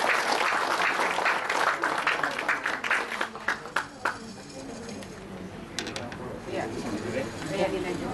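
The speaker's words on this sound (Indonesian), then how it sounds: "Beri tepuk tangan dong buat Ibu Yuli." An indoor audience applauds at a health testimonial event, a dense burst of clapping that thins and fades over several seconds, with voices murmuring underneath.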